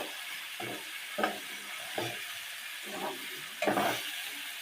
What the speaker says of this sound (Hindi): अब हम ऐड कर रहे हैं जी इसमें चपली कबाब के स्लाइस।